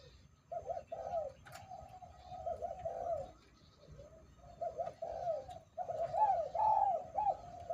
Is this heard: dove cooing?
yes